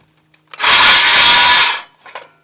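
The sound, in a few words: jigsaw overcutting a notch in wood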